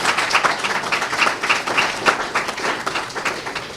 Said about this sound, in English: I want you to give Mickey a round of applause for his action